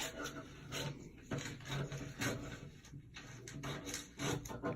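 A magazine picture is sliced diagonally into pieces, giving repeated close rasping, scraping strokes of a blade through paper with soft rubbing between cuts.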